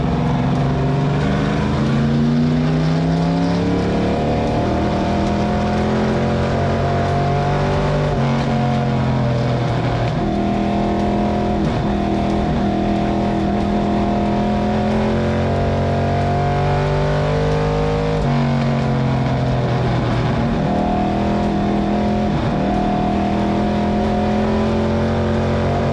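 Several race cars roar through a corner two or three wide, their engines loud and close, pitch rising and falling as they lift and reaccelerate in overlapping waves.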